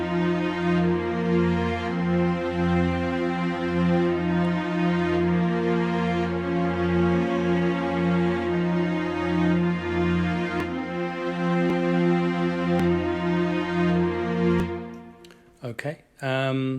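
Layered orchestral string sections with a lead violin over a soft ambient pad, for a home-studio prog rock track, a dense sustained swell that fades near the end into a few brief clicks and fragments.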